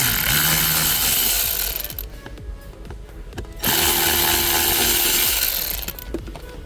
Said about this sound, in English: those are T15s again, and I'm gonna start taking these off